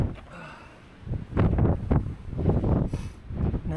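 Strong gusts of wind, around 40 to 50 mph, buffet the microphone atop Hunter Peak in Guadalupe Mountains National Park in heavy, uneven rumbling surges, loud and close, with no talking.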